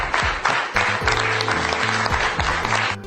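Cabinet members applauding together, a dense and steady round of clapping heard up close, with a low tonal sound and some voices running underneath.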